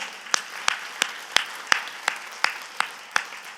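Church congregation claps in unison during a sermon, about ten sharp, evenly spaced claps in a steady rhythm, crisp and moderately loud against a quiet hall.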